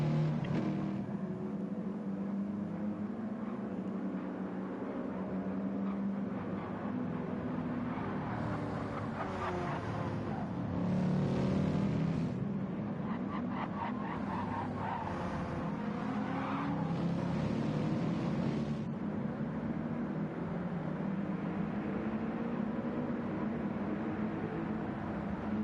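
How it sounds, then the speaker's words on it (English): GT race cars at Road Atlanta roar continuously as they race. The engine drone swells and eases as cars pass, with no talk over it. "Another opportunity for cars to pit in, and we've got Will and Joe back together at the front"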